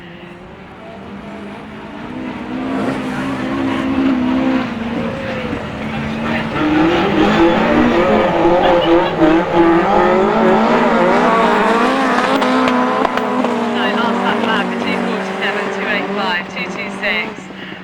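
Autograss race car engines roar at a grass track, one popping and backfiring as it runs, loud and continuous under a commentator talking throughout.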